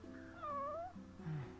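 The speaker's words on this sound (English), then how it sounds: "It's a kitty cat." A cat meows in a video game, giving a couple of drawn-out meows, fairly quiet, with no talking over them.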